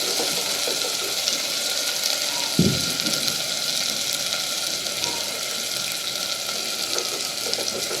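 Onions frying in a pan for a bamboo-shoot chicken curry give a steady, moderate sizzle throughout, with one brief clunk near the start and no talk.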